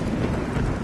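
Heavy rain falling steadily with a deep thunder rumble, a dense, loud, continuous wash throughout.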